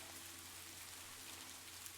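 Soft rain patters steadily against a window pane, a constant, even hiss of drops with a faint low hum underneath, quiet and unbroken.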